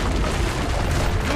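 A loud, dense rumbling boom from cannon fire on a rampart in the video game Assassin's Creed Brotherhood, a sustained heavy blast that fills the short moment with no gaps.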